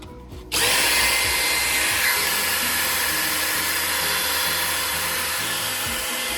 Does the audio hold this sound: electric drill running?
yes